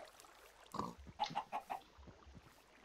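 A pig in Minecraft grunts in a short series of four or five quick, close oinks, preceded by a single grunt, with low thumps and light background noise around them.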